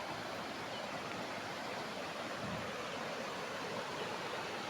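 River flowing beside an old mosque gives a steady, even rush of water, constant and moderately distant, with no voices.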